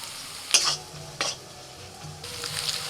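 Ground red chilli, coriander, cumin, Kashmiri chilli, turmeric and salt frying in a pan with a splash of water, a soft, low sizzle under a few sharp scraping stir strokes.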